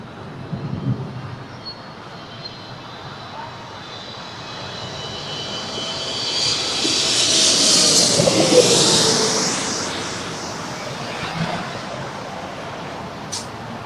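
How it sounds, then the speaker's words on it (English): Air France Flight 72, an airliner at LAX airport, passes as a jet engine roar that swells gradually to a loud peak midway and then fades away, with no talk over it. "And there she is, Air France Flight 72."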